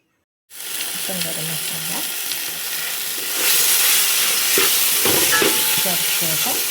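Butter chicken pieces fry in a pan with a steady, loud sizzle and hiss, while a spoon scrapes and stirs through them in intermittent strokes; the frying grows louder partway through.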